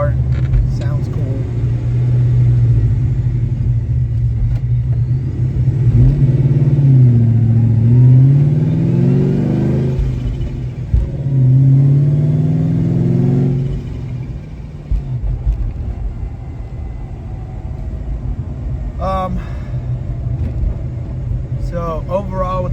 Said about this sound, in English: It's a good car, sounds cool.